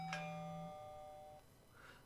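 An electronic quiz bell rings once with a bright ding followed by sustained tonal harmonics that fade, used to signal the start of answering in a festive online quiz.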